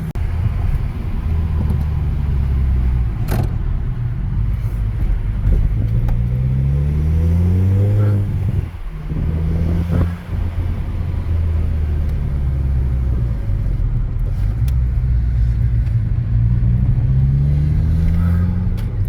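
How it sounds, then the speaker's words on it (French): Golf V GTI engine revving in repeated rising sweeps, heard close from inside the car with a steady low rumble, a brief pause near the middle where the dump valve releases, then climbing again. "Ah ouais, ça c'est la dump valve."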